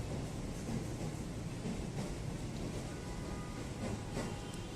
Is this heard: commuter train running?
yes